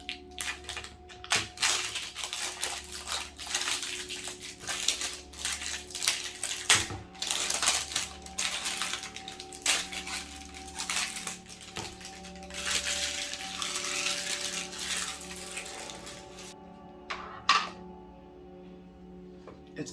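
Butter Clouds slime, cotton-candy scented, squished and handled up close, giving dense crackling pops and squelches in steady bursts, loud and intimate with no talking.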